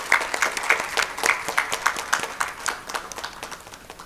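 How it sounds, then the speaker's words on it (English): An audience applauds a prize winner at an award ceremony, clapping that starts lively with distinct individual claps and gradually thins and fades toward the end. "Please give him a huge round of applause."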